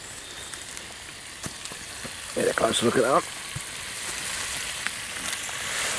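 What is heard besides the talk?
bacon frying in a pan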